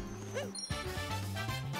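Cartoonish dog barks in the video game Super Mario Odyssey, a few short yips and bow-wows mixed with bright game music and effects.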